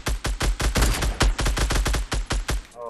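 Rapid automatic gunfire in the video game Fortnite Battle Royale, a loud, close burst of more than twenty evenly spaced shots over a few seconds, with no talking.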